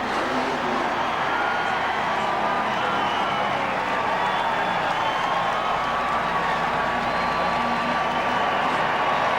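Race crowd at Atlanta's 2001 Cracker Barrel 500 NASCAR event cheering and applauding in a steady, dense roar that holds loud and unbroken throughout, with no talk over it.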